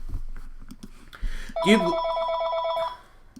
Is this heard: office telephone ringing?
yes